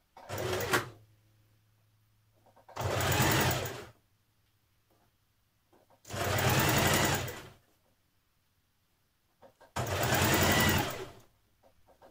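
Sewing machine stitching a 1 cm seam along a thin jumpsuit strap, four separate bursts of steady mechanical whirring with quiet pauses between them, a low hum lingering in the gaps.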